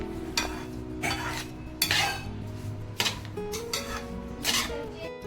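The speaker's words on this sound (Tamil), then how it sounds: "ரவையும் நெய்யும் சேர்ந்து நல்லா வந்து வாசனை வர அளவுக்கு வந்து நல்லா வறுத்துக்கலாம்" Semolina roasting in ghee is stirred around a metal pan, with about five distinct scraping sweeps of a spoon against the pan over a soft background, close and fairly quiet.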